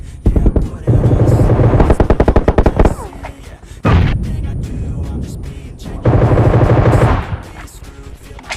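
Bursts of rapid Groza assault rifle fire in the BGMI battle royale game, three loud sustained volleys separated by short pauses, with rattling shots and in-game ambience between them.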